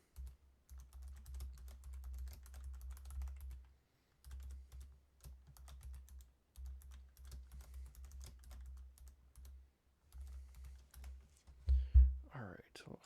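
Fingers type a password on a computer keyboard, a quick run of soft close key clicks in short bursts with brief pauses, over a low steady hum, ending in a slightly louder clatter.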